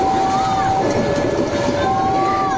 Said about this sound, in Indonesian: sebuah mobil ditabrak kereta api Ranggajati di perlintasan Curah Tulis